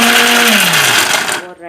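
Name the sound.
mixer grinder grinding ingredients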